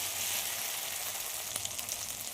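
Ginger-garlic masala frying in oil gives a steady, dense sizzle throughout, with light crackles and spits popping out near the end; no one speaks.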